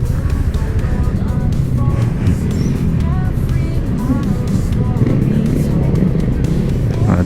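A jeepney engine runs steadily with a continuous, throbbing drone, loud and close throughout, while someone talks over it.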